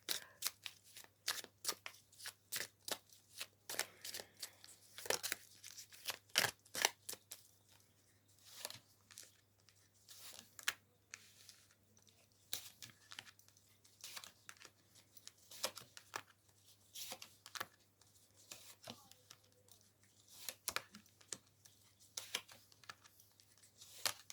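Repeated crisp riffles and snaps of tarot cards being shuffled, coming in irregular bursts close by in a quiet room.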